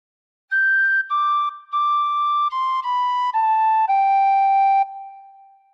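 A tin whistle plays a slow phrase of Hark the Herald Angels Sing, about seven clear sustained notes stepping downward, the last note held longest before fading, solo and close.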